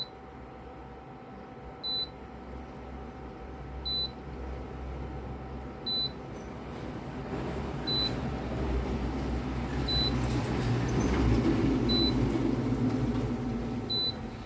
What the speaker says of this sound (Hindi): नो सिग्नल का बीप साउंड दे रहा है